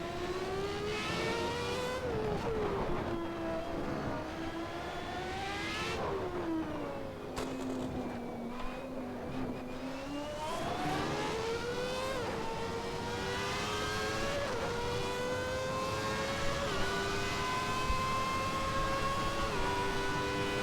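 The 3.5-liter Renault engine of a Williams FW14 racing car in Assetto Corsa screams continuously, revving up and down through gear changes, loud and close for the whole stretch without any talking.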